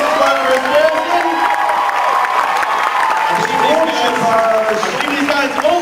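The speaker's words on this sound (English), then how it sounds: "let's give a round of applause for our North Texas 501st Garrison" A convention panel crowd at Dallas Fan Days applauds the North Texas 501st Garrison, clapping mixed with cheers, whoops and a loud murmur of voices that carries on without a break.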